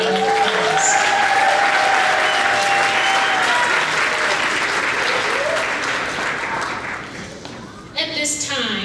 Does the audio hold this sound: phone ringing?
no